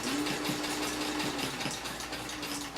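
Old sewing machine stitching along the edge of a pillow, a steady mechanical whirr with a fast, regular clatter of the needle running close and moderately loud throughout.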